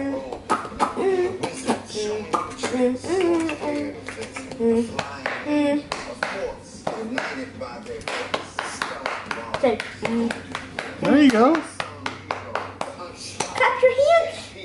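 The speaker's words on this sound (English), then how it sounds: "Let's try to clap your hands." Hands clap along to a steady beat in a children's rhythm activity, a run of sharp claps mixed with a child's and an adult's talking throughout.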